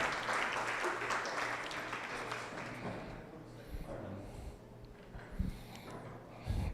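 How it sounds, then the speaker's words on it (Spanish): Audience applause for volunteers at a church sermon, clapping strongest early and fading out, followed by a few scattered thumps and a low hum. "Un aplauso a nuestros voluntarios a fuerzas aquí."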